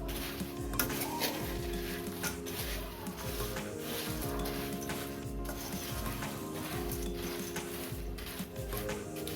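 Puffed rice for bhel puri being tossed and mixed in a bowl: a dense, continuous scraping and rustling with light clinks of a spoon against the bowl, steady throughout.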